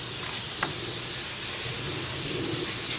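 An aerosol of O'Reilly engine degreaser sprays steadily across a cold Jeep JKU engine bay, a continuous close hiss lasting the whole stretch with no talking.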